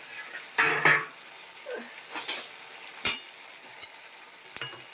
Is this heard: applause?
no